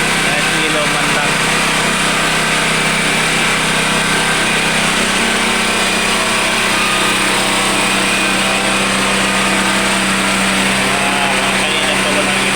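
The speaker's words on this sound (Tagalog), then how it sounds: "Meron generator kami dito." Portable generator running steadily during a nighttime power outage in Batangas, a constant loud droning hum without pause for the whole stretch, with faint voices underneath.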